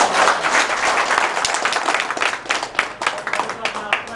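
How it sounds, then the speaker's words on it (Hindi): Loud, dense applause from a room full of students clapping for their teachers, sustained for about four seconds with sharp individual claps poking through the steady wash. "मैं सभी गुरुजनों के लिए जोरदार तालियां"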